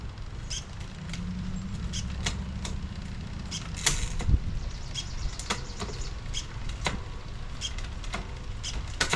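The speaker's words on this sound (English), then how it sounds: "just run through some gears really quickly" SRAM GX AXS electronic derailleur on a bicycle shifting quickly through the gears: a run of sharp, irregular mechanical clicks and short whirs over a steady, low background hum.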